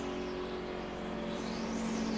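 Race cars at the 2009 Pocono 500 roar steadily past the finish line, a continuous loud engine drone with a sustained whine that holds for about two seconds without a break.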